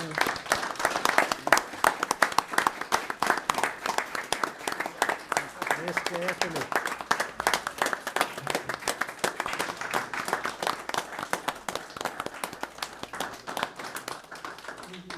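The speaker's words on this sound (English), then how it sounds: "give her a round of applause for this diploma" A crowd at a county board of commissioners meeting applauds steadily for the whole stretch, dense clapping throughout, with a voice briefly calling out during it.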